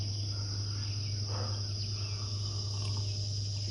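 Insects droning steadily outdoors at a campsite on a hot morning, a constant high buzzing chorus that holds unbroken from start to finish, with no talking.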